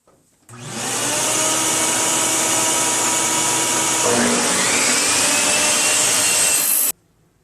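A power saw cutting wooden pieces for a fireplace surround face frame, spinning up and holding a loud, steady whine through the cut before stopping abruptly.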